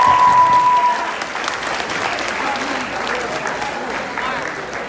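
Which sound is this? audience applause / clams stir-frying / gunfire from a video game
audience applause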